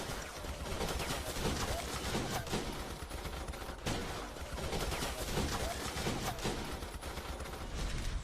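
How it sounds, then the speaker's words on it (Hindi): Gunfire in a gang clash in Dhanbad: dense, overlapping bursts of shots crackle continuously over a noisy background, loud and chaotic for the whole stretch, with a voice faintly mixed in. "फिर गोलियां चली और हर तरफ बस धुआं धुआं।"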